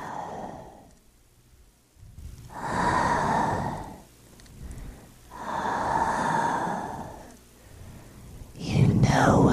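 Slow, eerie breathing rises and falls in long swells, with hushed breaths between them and a sharper rush near the end, close and dramatic, like a horror-story sound effect.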